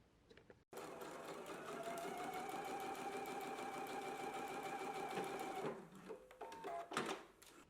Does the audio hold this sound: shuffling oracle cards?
no